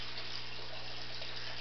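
Water pours into a 25-gallon tote of a home aquaculture setup while a submersible pump runs, a steady splashing fill over a low constant hum.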